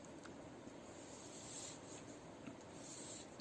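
A pen drawing a small sketch on paper, soft continuous scratchy rubbing strokes, faint and close, no talking.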